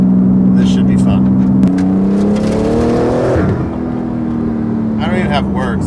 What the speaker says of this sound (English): drive the GT2RS to see what it does with the new VRTuned, making near 800 horsepower to the crank.